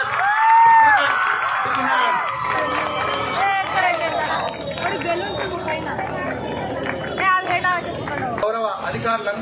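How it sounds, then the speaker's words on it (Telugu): An audience at an outdoor district event claps and cheers as balloons are released, a lively crowd hubbub of applause and whoops mixed with a voice over a loudspeaker. "అందరి క్లాప్స్, బిగ్ హ్యాండ్స్."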